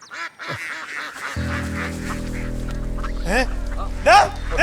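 Several ducks quack loudly and repeatedly nearby, harsh honking calls over a steady low engine-like hum.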